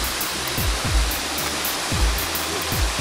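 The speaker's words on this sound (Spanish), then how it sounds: "les invitamos a que disfruten de esta cascadita llamada la neverita" La Neverita, a small waterfall in Montalbán, pours with a loud, steady broadband rush of falling water, with faint low thumps recurring underneath and no voices.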